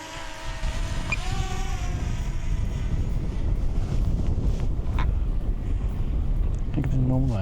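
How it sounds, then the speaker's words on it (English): Wind gusts across the microphone beside Lake Glenmaggie, a steady low rumbling buffet under someone talking throughout. "It's a little bit windy out here today and I don't want to lose my drone."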